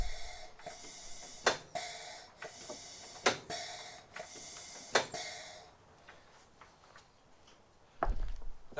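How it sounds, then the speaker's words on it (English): Quiet rhythmic puffing and hissing from the crankcase breather of a JAP engine in an Aeronca aircraft, regular wheezy pulses with sharp clicks, fairly close, ending in a louder rumble. "That sound is the breather."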